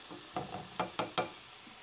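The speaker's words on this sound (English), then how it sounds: "So I'm going to let that saute a little bit." Vegetables sautéing in a pan for enchiladas, a soft steady sizzle broken by several distinct stirring scrapes and taps, fairly quiet and close.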